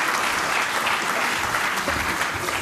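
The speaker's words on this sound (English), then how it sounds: "Huge round of applause for having the courage to get up on stage" Audience applause fills a conference hall during a lightning-talk session at the 29C3 hacker congress, with dense, steady clapping sustained at an even level from start to finish.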